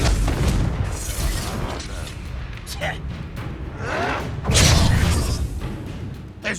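A Confringo fire spell in the video game Hogwarts Legacy, several booming fiery blasts and bursts with whooshes, loud and close amid game noise and in-game voices talking.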